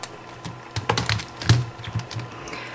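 An MF8 Megaminx puzzle turned by hand, giving a close series of quick, dry plastic clicks and clacks in irregular bursts, with no talking.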